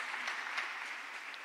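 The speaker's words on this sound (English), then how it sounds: "Give yourselves a round of applause." Audience applause at a government event in Trinidad and Tobago, a short steady burst of clapping from a crowd with no speech over it.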